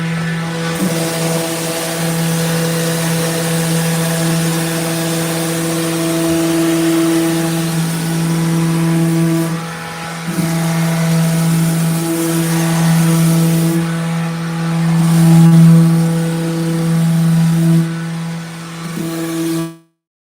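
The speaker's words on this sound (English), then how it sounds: "just need to sand that for a second" A power sander hums on cabinet trim, a loud, steady motor whine with a strong tonal drone, dipping briefly midway and wavering slightly under load before cutting off abruptly at the end.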